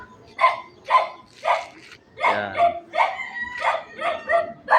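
A dog barks repeatedly in a steady series of sharp, close barks, with a brief spoken word near the start.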